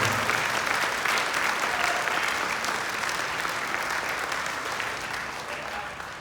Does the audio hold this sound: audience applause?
yes